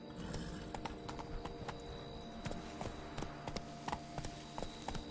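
The horse Roach gallops in The Witcher 3, its hooves beating in a rapid rhythmic clip-clop that keeps up across the clip at a moderate, fairly quiet level.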